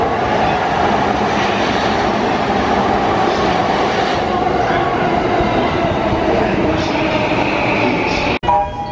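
A train in Tokyo pulls into a station platform with a steady, loud rolling rumble and rail noise that fills the whole stretch, ending in a brief sharp knock.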